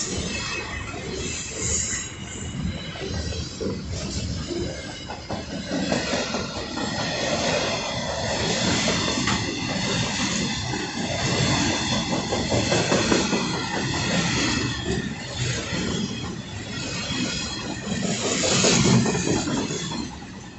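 A Class 66 diesel locomotive, 66433, hauling rail and old ballast containers, passes at speed through Langho with a loud, sustained roar of engine thrash and rumbling wagons and squealing wheels that swells near the end, with no talk.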